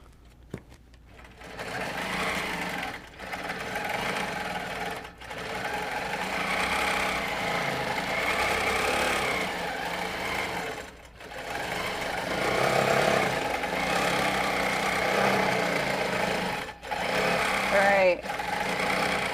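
A longarm quilting machine stitches steadily and close, its motor humming through long runs that stop briefly several times, with faint talk over parts of the sound.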